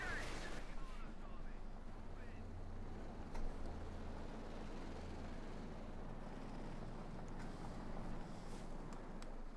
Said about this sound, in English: they're opening up there with its twin 20mm Polston guns